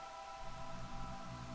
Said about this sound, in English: Oh, the little raindrops start hitting me.